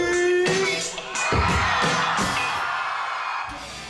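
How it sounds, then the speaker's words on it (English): At an outdoor music event in Sydney, a crowd screams, whoops and cheers loudly and continuously, with shouted voices rising over the roar. "I want everybody to scream"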